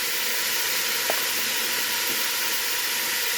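Meat seasoned with Weber Smoky Mesquite seasoning sizzles in a pan, a steady broad hiss with a faint click partway through and no talking.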